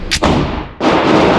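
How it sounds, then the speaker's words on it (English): Two loud gunshots from an Auto-Ordnance 1911 .45 ACP pistol fired at a target, a sharp crack followed by a second shot about 0.6 seconds later, each with a booming tail, close and alone. "Keep shooting until I tell you to stop."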